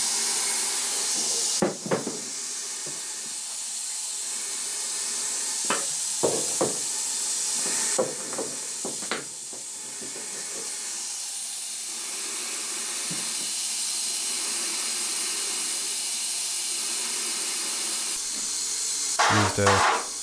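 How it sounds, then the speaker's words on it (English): Long continuous hiss of a paint spray gun with a small tight pattern spraying two-part paint inside a Talbot camper's bonnet box sections, running steadily for many seconds, broken by a few sharp clicks and knocks and short pauses. "Used a small tight spray pattern to do the insides of the box section"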